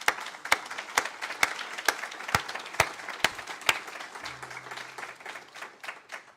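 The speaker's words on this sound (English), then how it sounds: "I think they deserve a round of applause" An audience applauds at a New Hampshire Medicaid opening event: a short burst of clapping with several sharp, distinct claps standing out over softer scattered ones.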